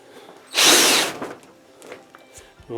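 A power drill whirs loudly for about half a second, then cuts off, leaving faint rustling and handling noise.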